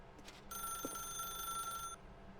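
Telephone ringing inside the video game The Stanley Parable 2, a bright electronic bell tone held for about a second and a half over a faint background hum, with no talking.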